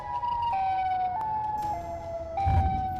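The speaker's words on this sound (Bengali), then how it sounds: "আর সেই সময় রেড সাইরেন হেড সিটির ভিতরে এসে অনেক জোরে সাউন্ড করছিল।" A monster's siren blaring in a video game, a loud, steady wailing tone that steps between pitches in long held notes, with a low rumble swelling near the end.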